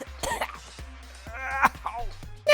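A person coughs and whimpers on the floor after being punched hard in the stomach, in the story game Danganronpa S.O.S. Several short, rough coughs and throat sounds come close and loud in uneven bursts.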